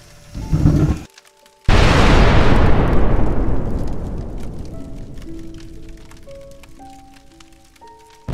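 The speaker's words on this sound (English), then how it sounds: "the explosion!" A Minecraft explosion: a sudden loud boom after a brief silence, its crackling roar decaying over several seconds, with faint game tones sounding afterward.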